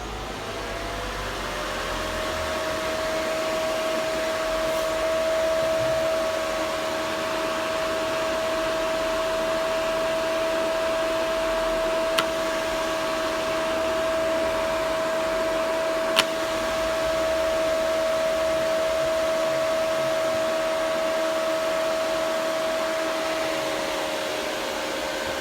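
A Burano 2-in-1 nail e-file and dust collector runs its vacuum suction with a steady, even motor hum and fan whoosh, moderately loud and unchanging for the whole stretch, with a couple of faint clicks and no voices.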